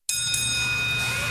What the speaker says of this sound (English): That's one smart bell.